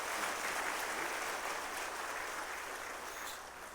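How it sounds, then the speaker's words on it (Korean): Warm applause from a church congregation during a Sunday service welcoming a new member, a steady wash of clapping heard at a distance and fairly faint throughout. "뜨거운 박수로 환영하겠습니다"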